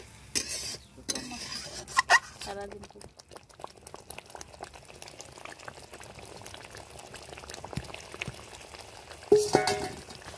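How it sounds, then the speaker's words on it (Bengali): Bombay duck (loitta) fish pieces drop one at a time into a pan of sizzling masala, giving soft splashes and crackles over a steady low frying hiss, with a louder burst near the end. "বন্ধুরা দেখুন আমি একটা একটা করে লোটে মাছটাকে মশলা কষানোর মধ্যে আমি দিয়ে দিচ্ছি"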